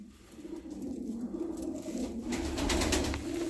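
Pigeon cooing close by in a loft, soft repeated low coos over a faint background hum.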